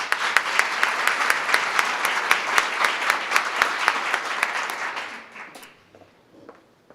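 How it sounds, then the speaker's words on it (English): An audience claps for the three finalists of a 2014 sustainable business essay competition, a dense, steady round of applause that fades out after about five seconds, leaving a few stray claps. "One final round of applause for all of their work."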